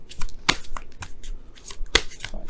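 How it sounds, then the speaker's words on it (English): Tarot cards are shuffled by hand in quick, close riffles and slaps, with a few sharp snapping bursts at irregular intervals. "shuffle,"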